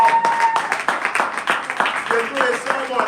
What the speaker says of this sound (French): On peut applaudir les sœurs.